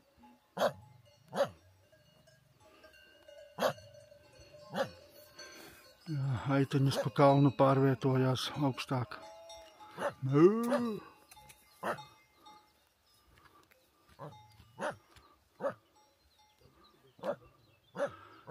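Dogs bark on a mountain trail in the Tatra foothills, several sharp barks spaced out, with a longer run of vocalising midway, while people talk nearby.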